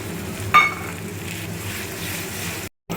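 Spice mix tipped into onions frying in a pan, a brief sharp sizzle burst as it hits the oil, then a steady close frying hiss that cuts out near the end, no voices.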